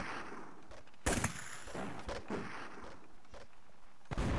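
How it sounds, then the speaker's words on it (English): Artillery cannon fire and shrapnel bursts in the Mount & Blade: Blood and Iron video game, several sharp booming blasts spaced a second or two apart over a quiet background. "Artillery, check fire!"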